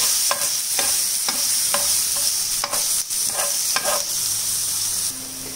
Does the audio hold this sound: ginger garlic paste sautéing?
yes